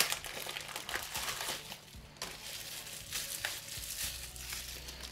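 Bubble wrap around a slime container crinkled and handled close up, a continuous soft crackling and rustling with small pops, no talking.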